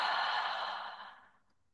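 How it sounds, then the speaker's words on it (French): A single deep breath released as a long, full exhale, close to the ear, loud at first and trailing off smoothly into silence. "Prenez une grande inspiration et une complète expiration."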